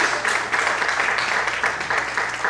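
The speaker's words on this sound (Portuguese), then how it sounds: "Será que você pode aplaudir e glorificar a Deus nessa manhã?" A church congregation applauding during a worship service, a dense wash of clapping with rhythmic surges, loud and filling the room.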